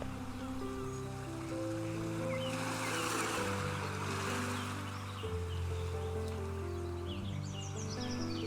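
Sea waves wash onto Arambol beach in North Goa as a steady, soft surf hiss, with a continuous low tonal hum layered over it and no voices.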